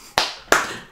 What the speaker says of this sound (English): We'll just clap anyway.